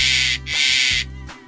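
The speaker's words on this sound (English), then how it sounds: "Owl. This is an owl." An owl calls in a loud, close series of harsh, breathy hoots broken by short gaps, over a low rhythmic musical pulse.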